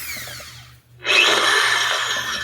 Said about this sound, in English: So I guess drill another hole or two.